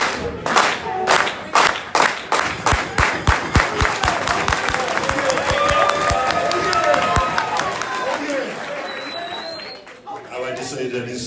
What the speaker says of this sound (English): let's do what I call the bear clap